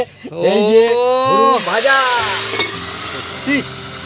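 Hurum puffed rice snack dropped into hot oil sets off a frying sizzle that keeps going beneath animated voices and bursts of laughter.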